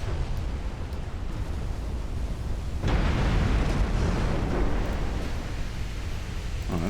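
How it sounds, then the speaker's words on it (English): A ship called the Montague blows up in a naval war video game, a deep sustained roar that surges suddenly and rumbles on for several seconds over steady broadband battle noise. "take out a main gun and cause the Montague to explode"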